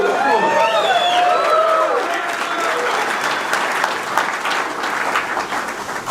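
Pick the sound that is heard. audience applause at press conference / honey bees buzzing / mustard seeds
audience applause at press conference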